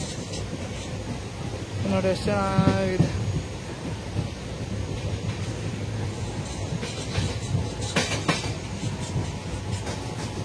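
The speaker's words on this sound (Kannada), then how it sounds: "ಆಮೇಲೆ ಎರಡು ರೈಲು ಹೊರಡ್ತಾ ಇದೆ." A passenger train pulls out of Maddur railway station, a low rumble of wheels and carriages running steadily through the whole stretch with a brief tonal squeal early on, while a person talks nearby over the noise.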